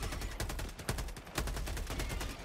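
Dense bursts of assault rifle fire in a multiplayer shooter, rapid overlapping shots with a few sharper louder cracks near the middle, no voices over it.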